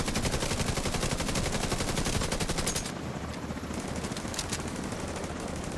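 In The Division 2, an automated turret fires on an enemy boss in a rapid, unbroken stream of machine-gun bursts, loud and dense at first, then continuing slightly softer alongside other gunfire.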